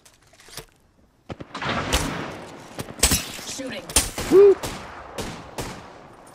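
Gunfire in the Apex Legends battle royale shooter, with several sharp bursts of shots scattered across the clip, mixed with game effects and players chatting over it.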